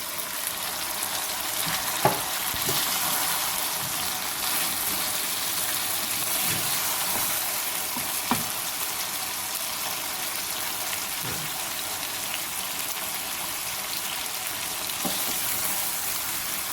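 Masala-stuffed eggplant frying in a pan with its spice mix, giving a steady, dense sizzle like light rain throughout, with a few faint clicks from the pan.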